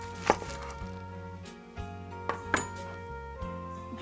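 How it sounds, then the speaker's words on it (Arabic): A knife slices an onion into very thin rings for a Greek salad, producing a few crisp, separate cuts against a cutting board over a steady low tonal hum. "نحاول نقص حلقات البصل تكون رفيعة كلش."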